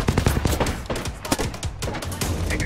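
Rapid gunfire from the battle royale shooter Apex Legends, dense bursts of sharp shots cracking close and loud across the whole stretch with almost no gaps, no voices over them.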